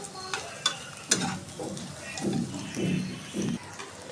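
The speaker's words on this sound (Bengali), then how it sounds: "সসেসগুলো আগে ভাজতেছি, ভাজে উঠাই নিব" Sausages sizzle and fry in a pan with scraping stirs and soft clatter, a steady close crackle throughout.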